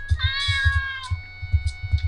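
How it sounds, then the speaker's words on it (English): A cat in the video game Hero's Realm lets out a drawn-out, clear meow over steady, rhythmic low thumping. "Get away from my cat."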